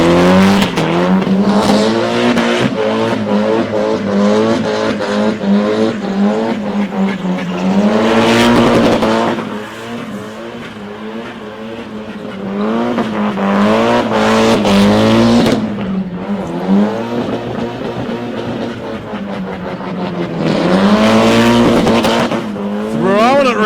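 A street drag car bounces hard off its rev limiter while spinning its wheels at a street drags event, giving loud, stuttering high-RPM engine bursts with tire squeal. There are two brief dips between long blasts and a voice under the noise.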